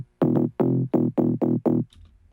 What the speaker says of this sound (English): it also has this kind of pitter-patter bass